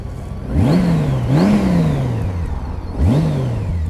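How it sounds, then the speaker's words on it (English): A Honda F6B motorcycle with a six-cylinder V6 engine fires up close by, then revs in three quick rising-and-falling blips, the smooth engine note swelling and dropping back each time. "Let's start the engine."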